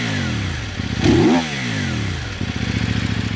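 A KOVE 800 Adventure motorcycle engine runs close by, a rough idle that swells into a quick rev and falls back, then settles into a pulsing, uneven idle again.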